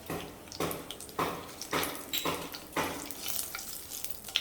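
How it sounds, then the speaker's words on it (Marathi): Grated raw papaya and green chilies being sautéed on medium flame, with a close sizzle and repeated scraping stirs in a rhythmic pattern about every half second. "कच्चा पपई जो किसून घेतलाय तो आणि मिरच्या आणि मीडियम फ्लेमवर आपल्याला अगदी अर्धा मिनिटभर हे परतून घ्यायचं आहे सगळं"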